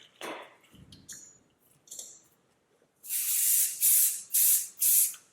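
Four loud hissing bursts from a hair spray can, each about half a second, following quieter rustling and brushing sounds.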